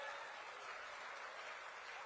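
Steady, dense applause from a large crowd at a political public meeting in Jagatsinghpur, Odisha, a continuous even wash of clapping with no pauses and no voice rising above it.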